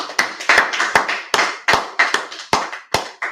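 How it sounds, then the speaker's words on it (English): Firm, close hand clapping in a steady rhythm of about three claps per second, each clap sharp and distinct, alone with no talking. "I'm going to clap it up."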